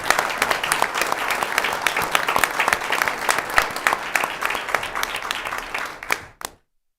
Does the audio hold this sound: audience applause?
yes